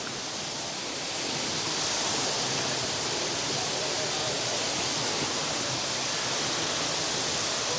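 The Pé da Serra waterfall in Barra do Garças, Mato Grosso roars as a steady, broad rush of falling water, loud and close, swelling slightly in the first second and then holding constant.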